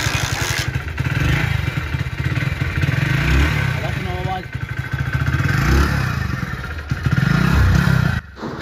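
A Hero HF Deluxe motorcycle engine with an acceleration problem revs steadily at close range, rising only slowly with a rough, clattery idle beneath, while someone talks over it.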